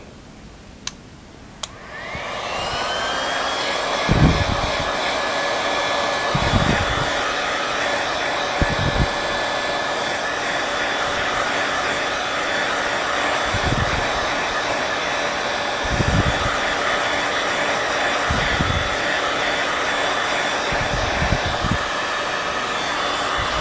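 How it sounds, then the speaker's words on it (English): A hair dryer switches on with a click and blows steadily at high power over painted ornaments, a loud continuous whoosh with faint periodic thumps. "I'm going to dry all of these with my hairdryer"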